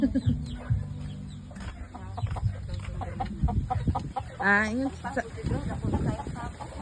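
A turkey and other poultry cluck and gobble close by, with people talking over the birds throughout.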